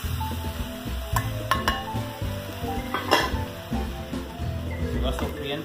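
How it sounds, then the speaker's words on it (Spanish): Onion and bell pepper sautéing in a paella pan for a San Juan–style mixed chicken and seafood paella, a steady sizzle broken by repeated scrapes and clinks of a utensil against the metal pan. "Se va sofriendo esto."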